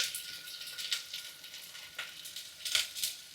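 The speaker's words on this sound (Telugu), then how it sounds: "స్టార్టింగ్ మనం కొరియాండర్ రైస్కి ఆనియన్స్, పచ్చిమిర్చి వేయాలి కదా" Onions and green chillies frying in ghee in a pan, a steady soft sizzle with a few brief louder crackling bursts, close and alone.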